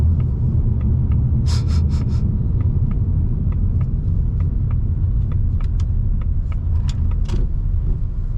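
A 2024 Mustang GT Premium on base all-season tires rolls over a bumpy road, heard from inside as a steady low road and engine rumble with scattered clicks and knocks from the suspension, alone without talk.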